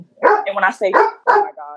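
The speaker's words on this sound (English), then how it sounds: "sorry guys, that's my dog." A dog barks a few times close by in a home, short yappy barks mixed in with someone talking over them.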